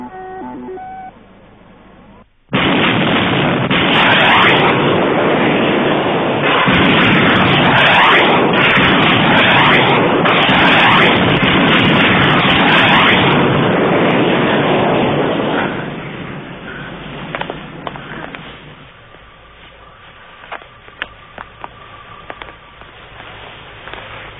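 Weapons fire overhead in a science-fiction TV series, heard as a sudden, loud, roaring barrage that lasts about thirteen seconds before dying down into scattered thuds and crackles.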